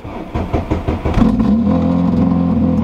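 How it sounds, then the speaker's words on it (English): A 1100hp Corvette Z06 engine revs hard in a few quick rising blips, then settles into a loud, steady high-revving drone, close and alone. "A good little rev start for the vlog."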